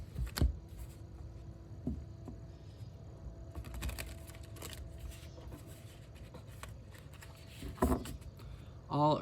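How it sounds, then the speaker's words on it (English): Quiet bursts of tarot cards being shuffled and tapped together, close by, coming in short irregular clusters with lulls between them. "One more shuffle."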